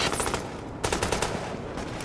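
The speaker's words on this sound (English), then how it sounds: "JTF under heavy fire at the park on first." Rapid automatic gunfire from Tom Clancy's The Division in a wintry New York park, with loud, closely spaced bursts of machine-gun shots and a few sharper cracks rattling continuously.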